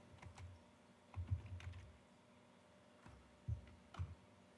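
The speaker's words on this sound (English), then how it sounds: "So I'm going to type this in." Quiet computer keyboard typing while entering values into a FreeCAD spreadsheet, with short bursts of soft, close key clicks separated by pauses.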